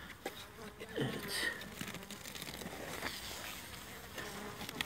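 Hungry honeybees buzz at an opened hive in an area of heavy agricultural spraying, a dense, close swarm drone that holds steady throughout, with a few louder passes near the listener.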